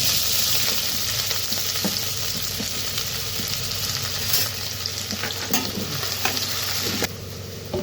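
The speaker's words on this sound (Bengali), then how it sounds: "তেলটা গরম হয়ে গেছে, তো দিয়ে দেব রসুন কুচি, আর দিয়ে দেবো পেঁয়াজ কুচি।" Chopped garlic and onion crackle in hot refined oil, a loud steady close sizzle with scattered sharp pops and scrapes of stirring.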